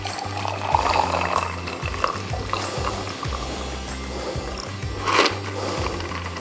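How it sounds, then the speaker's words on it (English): A cocktail is strained from a YETI cocktail shaker and poured into a glass, a close, gentle liquid trickle and splash with faint rattling of ice and metal. "we're gonna strain this drink. I'm gonna put it right in here."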